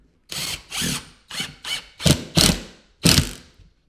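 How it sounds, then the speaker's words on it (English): A power drill drives screws into a drywall patch in a quick series of about seven short, loud whirring bursts, the later ones sharper as the screws sink, with no talking. "Put your second screw in it to sink it."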